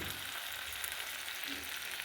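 Water hitting spice paste in hot oil for a Bengali tel koi fish curry, a steady loud hiss and sizzle that fills the whole moment without pause.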